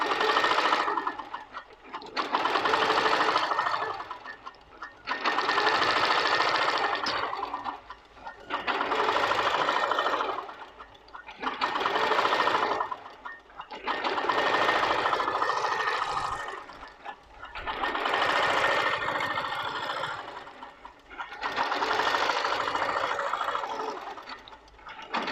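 A Moxie quilting machine running Pro-Stitcher Lite stitches a quilt block in repeated bursts of steady, rapid mechanical whirring and needle chatter, each run a few seconds long and separated by short quiet pauses, close and loud.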